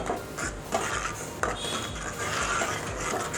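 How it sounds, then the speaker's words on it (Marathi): A spoon stirs a tiny pinch of hing (asafoetida) and salt in a cooking pot for mango curry, giving steady, repeated scraping strokes against the metal at close range with no voices. "थोडं हिंग, एकदम चिमूटभर, आणि थोडं मीठ. व्यवस्थित मिक्स करूया."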